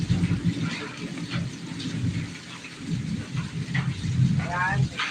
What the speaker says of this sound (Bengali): বাইরে প্রচুর বৃষ্টি হচ্ছে বিজলি চমকাচ্ছে